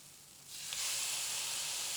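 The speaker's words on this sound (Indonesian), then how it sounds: "sekarang saya akan memasukkan tomatnya" Tomatoes drop into a hot pan for a baingan bharta dish. After a quiet start, a loud, broad sizzle bursts up and holds steady and close to the end.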